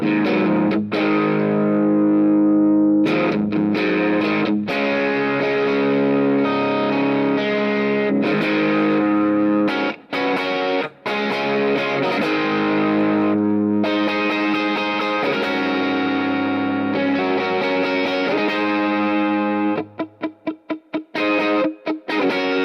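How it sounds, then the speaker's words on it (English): Electric guitar on the middle single-coil pickup through a Spark 40 amp set to a Vox AC30 model, playing loud, driven chords and ringing notes with slight distortion and a few choppy muted strums near the end. "So let's jump over to a Vox AC30. I'm going to stick with the middle single coil"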